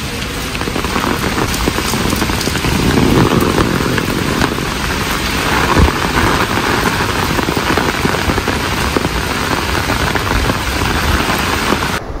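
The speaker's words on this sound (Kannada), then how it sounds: "ಇವತ್ತು ಮಳೆ ರಾಯ ನಿಲ್ಲೋ ಕಾಣಿಸ್ತಿರ್ಲಿಲ್ಲ, ಹಾಗಾಗಿ ನಾವು ಹೊರಟ್ವಿ." Heavy rain pours down in a dense, loud, unbroken hiss of drops striking surfaces, steady from start to finish with no voices.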